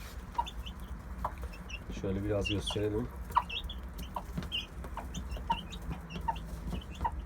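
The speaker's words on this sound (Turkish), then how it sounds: "üstteki tavuğu biraz daha göstereyim size" Hens cluck softly in a coop, scattered short calls repeating close by while someone speaks briefly over them.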